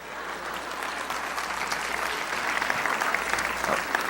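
A church congregation claps together in steady, loud applause that holds evenly for a few seconds, many hands close and full with no speech over it.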